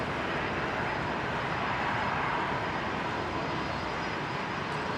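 United airliner departing Runway 19 Left at Brisbane Airport, bound for San Francisco: a steady, loud broadband jet roar fills the whole stretch without letting up, with no voices over it.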